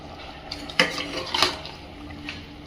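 Chicken gravy being stirred in a pan, with a couple of distinct metallic scrapes and clinks of the spoon against the pan over a soft background sizzle, close by and without speech.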